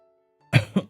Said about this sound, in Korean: 그날 저는 추운 날씨 탓인지 잔기침을 하고 있었습니다.